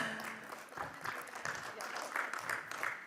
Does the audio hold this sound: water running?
no